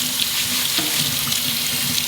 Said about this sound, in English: Okay, so we'll rinse our lentils.